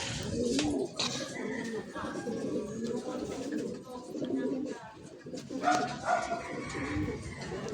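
Pigeons coo repeatedly at a racing-pigeon event, their soft throaty calls overlapping close by while people talk in the background.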